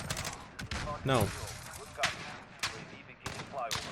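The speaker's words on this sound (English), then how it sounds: "Being shot at by multiple assailants there." Call of Duty: Modern Warfare ground war gunfire on the Port map, scattered sharp shots and short automatic bursts from several shooters at mid distance, with a brief spoken word between the bangs.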